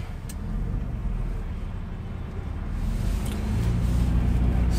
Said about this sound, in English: All right, we got a lot of traffic here.